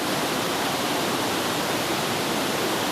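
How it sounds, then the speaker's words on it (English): Waterfall in the Fautaua river valley on Tahiti, French Polynesia, a dense, steady roar of falling water that fills the whole stretch without change or voices. "up the Fautaua, I believe it is, river valley waterfall"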